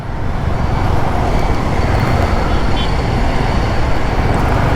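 A steady, dense wash of road traffic rumbles on a jammed road near Dhanmondi 27 in Dhaka, with engines and tires blending into continuous noise and no single vehicle standing out.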